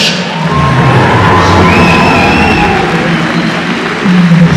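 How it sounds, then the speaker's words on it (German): A crowd applauds and cheers steadily for a Borg costume contestant at a Vienna comic convention, a dense, loud wash of clapping with scattered whoops, continuous throughout with no speech over it. "Also Applaus für unseren Borg, Blaž Berlec"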